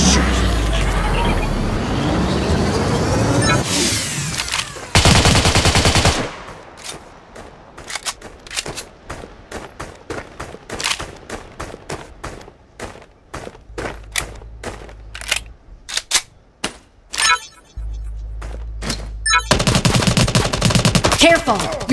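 Gunfire rattles through a battle royale video game, with dense automatic bursts and scattered single shots alongside game sound effects and a voice speaking in short lines.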